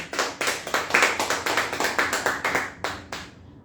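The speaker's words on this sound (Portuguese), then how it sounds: "Aplauda ao Senhor." A church congregation claps in a fast, even rhythm, many hands striking together repeatedly before the applause stops abruptly near the end.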